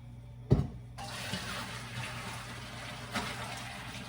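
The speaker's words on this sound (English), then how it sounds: "Potatoes drained now." Water from boiled potatoes pours out in a short rush, then splashes and trickles steadily into a sink, fairly quiet and close.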